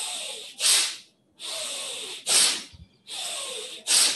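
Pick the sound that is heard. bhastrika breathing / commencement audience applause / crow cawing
bhastrika breathing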